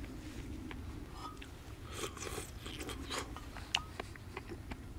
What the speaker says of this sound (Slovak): Je to huba. Fajná, chrumkavá.